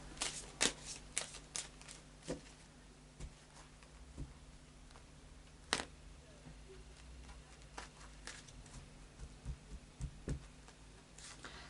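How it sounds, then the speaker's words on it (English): Faery Oracle cards by Brian Froud are shuffled by hand, a series of soft irregular snaps and riffles, some sharper than others, over a quiet room with faint background hum. "I'll just do a final shuffle now of the Fairy Oracle cards by Brian Froud."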